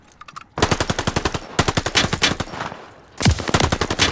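Bursts of rapid automatic gunfire from Call of Duty Vanguard fill the clip, loud and close, in three long volleys separated by short pauses.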